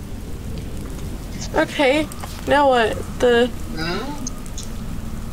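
Steady rain pours in a video game thunderstorm, a continuous broadband hiss running throughout, while a voice talks briefly over it in a few short bursts.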